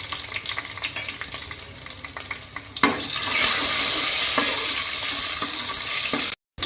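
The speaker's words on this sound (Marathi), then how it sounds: "त्यामध्ये आपण ही ठेचून घेतलेली लसूण टाकूया आणि बारीक कापलेली मिरची टाकूया" Crushed garlic and finely chopped chillies drop into hot oil and burst into a loud, hissing sizzle after a quieter start, with a few stirring knocks along the way.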